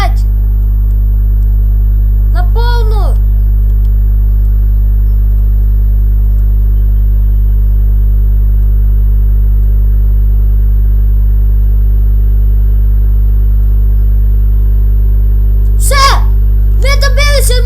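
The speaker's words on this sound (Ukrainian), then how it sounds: "Давайте розженемося на повну, вже 50 їдемо, 60" In Farming Simulator 2017, a car's engine holds a loud, steady low drone throughout, while someone talks over it in short bursts near the start and the end.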